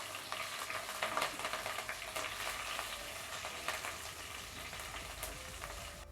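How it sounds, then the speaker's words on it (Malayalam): Urad dal, curry leaves and two dried chillies fry in hot oil in a pan, giving a continuous close crackling sizzle broken by scraping strokes as the mixture is stirred, with no one talking. "ഇനി ഒന്ന് ഇളക്കി കൊടുക്കാം."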